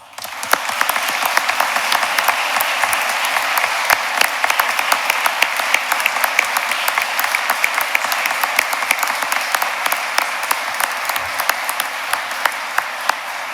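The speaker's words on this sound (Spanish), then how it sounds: "Aplaudamos este logro." Sustained audience applause fills a courtroom ceremony for newly sworn lawyers before the Supreme Court, dense and steady for the full stretch with many individual claps standing out, no voices on top.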